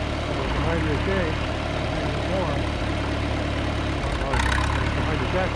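A tractor engine runs steadily while mowing weeds in a small pasture, a loud, close, low rumbling drone with a brief surge of mechanical clatter near the end, and a voice talking over it.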